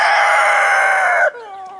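Young laying hens, about ten months old, give a loud, drawn-out call close by that breaks off abruptly, leaving a softer, lower tail of sound.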